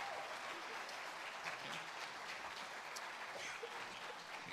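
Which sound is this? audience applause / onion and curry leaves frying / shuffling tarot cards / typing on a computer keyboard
audience applause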